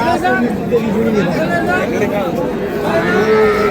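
Calves and Sahiwal, Sindhi and local dairy cows at a cattle market moo loudly and repeatedly, close by, amid constant crowd chatter and the general hubbub of the market.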